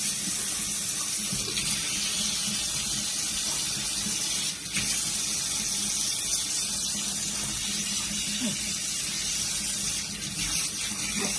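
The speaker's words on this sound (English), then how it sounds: "And I'll add a little bit of water." Water runs from a kitchen tap in a steady stream while garlic bread is being made, a soft, continuous splashing with small irregular knocks and no voices.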